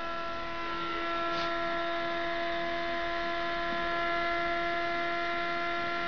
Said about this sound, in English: you can listen the RPM increases as well